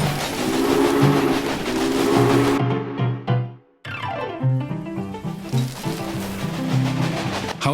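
Train rolling along in the railway strategy game Railway Empire, with steady wheel rumble, whistle-like tones and game music layered throughout, briefly cutting out midway before resuming at full loudness.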